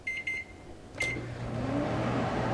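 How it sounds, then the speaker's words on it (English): A microwave oven heating honey samples gives a steady low hum with a rising whine, after a few short beeps at the start and a click as it starts running. "Okay, so we're gonna put them in the microwave."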